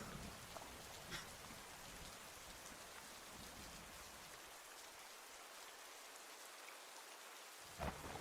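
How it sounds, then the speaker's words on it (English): Steady, dense rainfall hisses throughout in Old School RuneScape, with soft distant thunder rumbling low beneath it and a brief swell near the end; no voices. "Do you guys ever hear the thunder and raining and wonder if it's real?"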